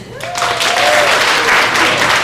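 A comedy club crowd claps loudly and briefly, a burst of dense close applause with some cheering mixed in.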